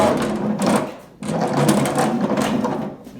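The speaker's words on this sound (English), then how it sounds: "we should be able to, if everything works right, slide the mower deck out." A 50-inch mower deck slides out from under a Cub Cadet XT1 lawn tractor with a steady metallic scraping and rattling, broken by a short pause before the scraping resumes, close and fairly loud.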